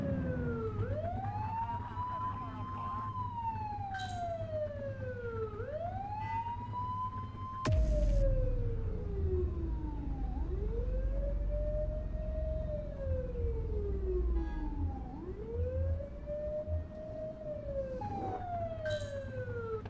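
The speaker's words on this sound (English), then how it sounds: "Get behind them and blip the siren to make them pull over." A police car siren in a video game wails in long rising and falling sweeps, loud and continuous, with a brief burst of noise partway through and an engine rumble underneath.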